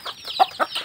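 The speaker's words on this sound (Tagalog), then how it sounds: "papakain pa tayo ng mga alaga nating manok dito mga idol." Pet native chickens clucking at feeding time, a few short, close clucks and chirps in quick succession with no talking.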